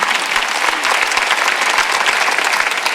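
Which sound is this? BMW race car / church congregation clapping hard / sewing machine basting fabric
church congregation clapping hard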